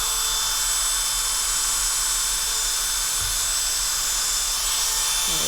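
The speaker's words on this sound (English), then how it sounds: "let's drill that puppy out" A Dremel rotary tool drills under a microscope with a continuous high-pitched whine and hiss, loud and close, holding steady for the whole stretch; no talk.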